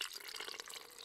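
A carbonated drink fizzes as it is poured from a can, a faint, steady hiss of crackling bubbles and liquid close by, alone with no voices.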